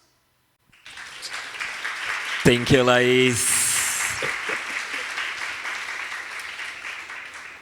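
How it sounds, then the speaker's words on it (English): An audience applauds at the end of a talk, a steady wash of clapping that rises after a silent start and holds for several seconds while a voice speaks briefly over it. "I guess you hear the applause in the audience."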